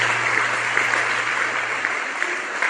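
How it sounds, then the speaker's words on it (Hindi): Students give loud, sustained applause at a welcome gathering, dense clapping filling the whole stretch without a break. "जोरदार तालियां छात्राओं"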